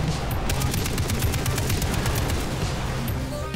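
Heavy machine guns in Far Cry 3 hammer out rapid, evenly spaced bursts, loud and close, amid rumbling battle noise throughout.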